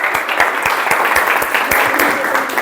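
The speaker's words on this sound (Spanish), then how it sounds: "esto se merece un gran aplauso" Class audience giving a round of applause, loud, close clapping with distinct individual claps standing out in a brisk, continuous stream.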